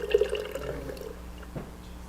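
Thawed E3Live liquid food poured from a jar makes a brief, soft liquid glug and trickle, then a faint splash, heard close up and quiet with no talk.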